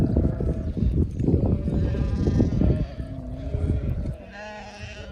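Lambs in a flock of sheep bleat repeatedly, several overlapping calls up close, with farm noise and some background voices between the cries.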